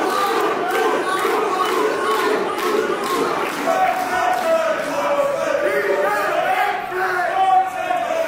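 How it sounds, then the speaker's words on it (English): A hot wrestling crowd roars at a Dark Chapter event, loud sustained cheering and shouting filling the hall, with voices rising and chanting together throughout. "the crowd are hot for this, and you can see why"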